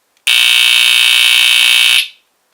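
A vintage BRK 1769ACI smoke detector blares a single steady, loud electronic alarm tone for nearly two seconds, then cuts off abruptly, with nothing else audible.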